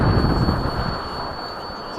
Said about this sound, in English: It's a very cool plane.